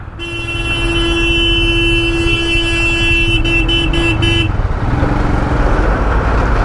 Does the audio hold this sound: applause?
no